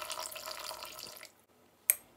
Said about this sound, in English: Then I added 250 milliliter of warm water